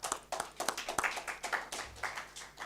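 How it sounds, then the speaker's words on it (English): Audience members at an African regional conference clap in a loose, uneven rhythm, with distinct sharp claps from a modest number of hands close by and no voices. "Can we clap?"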